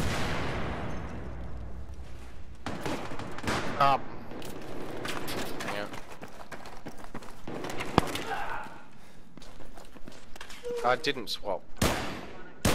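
Battlefield 3 pistols-only match with repeated sharp pistol and rifle shots, some in quick bursts and some single cracks, loud and close, while a player talks in short remarks over the firing.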